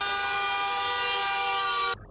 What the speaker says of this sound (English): Honking horns often showing support.